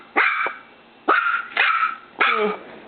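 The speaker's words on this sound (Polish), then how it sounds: "Ale obszczekać można." A dog barks at night, squaring off with a water bottle: four sharp, close barks, the first alone and then three in quicker succession, the last ending in a whining tail.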